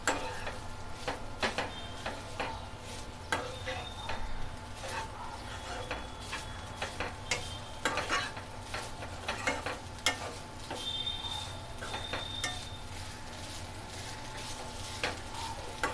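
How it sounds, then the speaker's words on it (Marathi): Modak filling sautéing in a pan over low heat, a faint sizzle under repeated clicking scrapes of a spoon against the pan at an uneven rhythm. "हा छान 2 मिनिटं परतून घेऊया"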